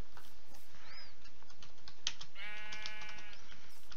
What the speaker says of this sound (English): I found a pink sheep! Pink sheep!